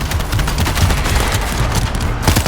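Dense rapid gunfire in the zombie shooter World War Z, Marseille level, a sustained loud burst of automatic shots with booming impacts throughout, no voices.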